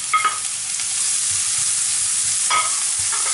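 Chopped onion, garlic, and green and red peppers fry together in a pan with a steady, even sizzle and hiss, broken by a couple of brief scraping stirs near the start and again later.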